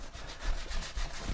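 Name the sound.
sanding with 320 grit sandpaper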